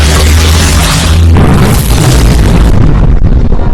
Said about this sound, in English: she fights back, wrestles free, and detonates the final explosive